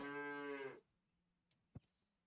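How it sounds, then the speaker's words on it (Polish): A cow in the video game Super Auto Pets gives one short, clear moo, followed by a couple of soft clicks in the quiet. "Krowa."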